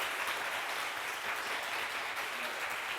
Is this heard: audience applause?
yes